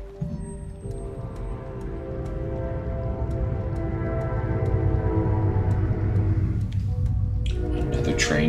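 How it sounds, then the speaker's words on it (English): Train passing by outside a home, a low rumbling roar that builds steadily over several seconds with repeated clicks and a rising hiss near the end, heard under game sounds and a talking voice. "Another train coming by already."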